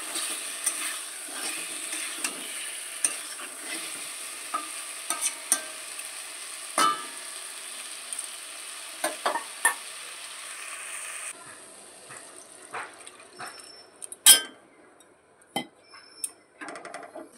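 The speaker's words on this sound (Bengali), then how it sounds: "আর মশলার সাথে মাছটা আমি কষিয়ে নেব" Fish being sautéed with spices in a pan, a faint low sizzle under repeated sharp scrapes and clinks of a spatula against the pan, then quieter stirring near the end.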